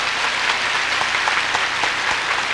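Audience members at a Buddhist lecture on rebirth break into dense, steady applause. It is loud and close, with many hands clapping together evenly throughout, and no voices.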